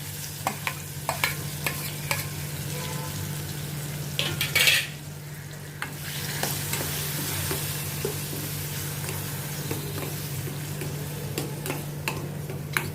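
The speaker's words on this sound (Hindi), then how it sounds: "टमाटर को भी पहले मैं थोड़ा सौते करती हूँ।" Small-cut chopped tomatoes with a green chili sautéing in a pan, a steady low sizzle with repeated spatula stirs and scrapes throughout, one louder scrape midway.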